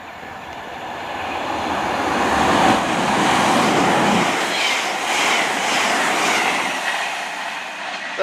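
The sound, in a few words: CrossCountry passenger train passing through Yatton station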